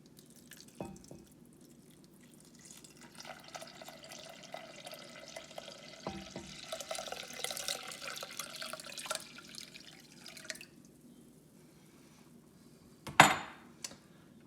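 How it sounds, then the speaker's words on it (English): Water trickles and splashes into a metal pot for several seconds, with a few clanks of the pot and a sharp knock near the end. "So now I'm going to add the water."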